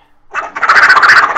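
A voice imitating Donald Duck, a loud, raspy, quacking squawk delivered close up in a short rapid burst, alone without other talk.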